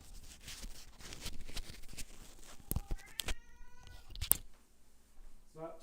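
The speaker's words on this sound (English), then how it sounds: "if you hear a screaming banshee in the background, that is just a hungry cat." Hungry house cat meowing during electronics repair: a drawn-out, wavering meow in the middle amid clatter and handling noises, with another short cry at the end.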